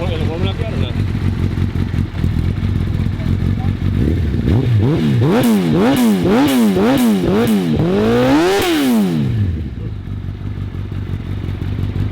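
Nitrous-equipped Suzuki Hayabusa motorcycle engine revving hard in a series of sharp throttle blips, each rising and falling quickly, loud and close over a steady idle, ending with a drop back to idle.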